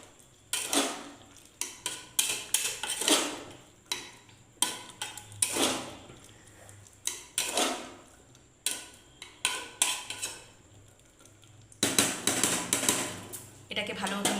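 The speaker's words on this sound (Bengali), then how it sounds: "এটাকে ভালো মতো মিশিয়ে নিলাম।" Spoon scraping and clattering against a pan while paneer and chickpea curry is mixed, a run of close, irregular metallic clinks and scrapes in bursts, with brief pauses between strokes.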